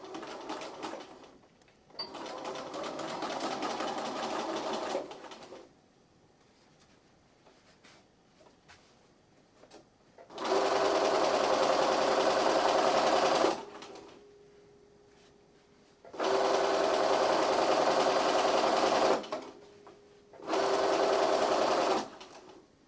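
A sewing machine fitted with a zipper foot stitches a reusable shopping bag, running in three loud, steady bursts of several seconds each, separated by quiet pauses, with a softer run at the start.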